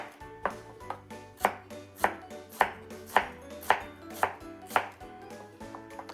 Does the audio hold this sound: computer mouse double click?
no